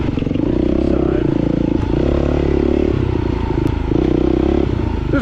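Husky dirt bike ridden along a trail in the Rampart area, its engine droning loud and close throughout with rising and falling revs, plus rattling and wind noise.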